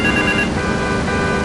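A payphone on Liberty campus rings in the video game GTA 3, a steady electronic trill carrying over a constant wash of background ambience.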